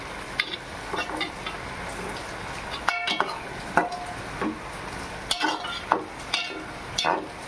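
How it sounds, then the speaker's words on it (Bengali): A utensil scrapes and stirs small fish curry in a pan, irregular clinks and scrapes against the metal over a soft simmering sizzle, close and fairly quiet. "এবার একটু নেড়ে চেড়ে নেব।"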